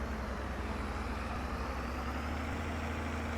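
A tractor engine idles in Farming Simulator 22 with a steady, loud, low diesel rumble and a constant hum, unbroken and uniform from start to finish with no talk over it.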